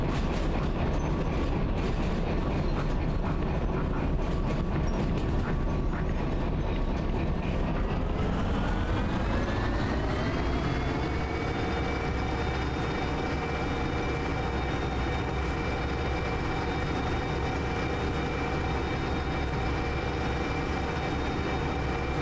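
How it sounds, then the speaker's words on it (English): An ST44 diesel locomotive train coasting through a tight curve in Derail Valley: a loud, continuous rumble with a sustained wheel squeal whose pitch slides upward midway and then holds steady. "now we can still let it coast, as back of our train is still going over that tight curve"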